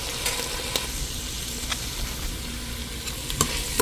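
Sliced onions and fennel seeds sizzle steadily in hot oil left over from frying chicken, a dense continuous crackle with a few sharp spatula scrapes and taps on the pan.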